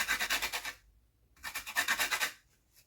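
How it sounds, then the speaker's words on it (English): Orange peel rubbed against a grater resting on a board: two close, raspy bursts of quick back-and-forth scraping strokes with a short pause between them, and no talking. "Just make sure that you grate gently and don't get a lot of that white stuff underneath"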